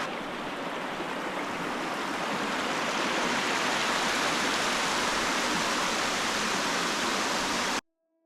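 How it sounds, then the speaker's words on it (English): A slide-type waterfall in Oregon's Tillamook Forest, its water gliding down a rock face, gives a loud, steady, broadband rushing roar close by that runs unbroken before cutting off at the end. "This first waterfall is considered a slide type waterfall for the way the water gently glides down the side of this rock face."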